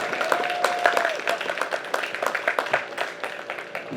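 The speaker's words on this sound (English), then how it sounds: "Round of applause for Everett" A small crowd at a quad, motorcycle and mini bike points race claps in a round of applause that thins into scattered individual claps, with a faint voice and background noise early on.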